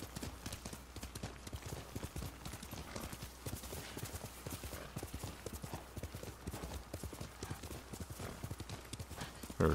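Horse hooves galloping in the video game Ghost of Tsushima, a rapid, even clip-clop rhythm that stays close and steady throughout.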